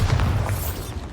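The Bombarda blasting spell in Hogwarts Legacy erupts as a loud, low boom with a brief rolling rumble that decays over about a second, no talk.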